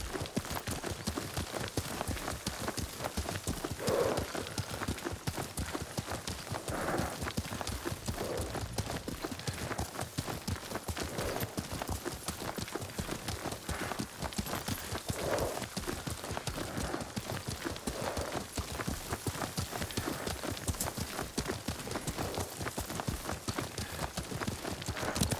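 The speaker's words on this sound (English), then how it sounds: "Lord Sakai taught me to ride a horse." Horse hooves clip-clop at a steady riding pace in the video game Ghost of Tsushima, a continuous rhythmic patter close by with a faint rain-like hiss beneath.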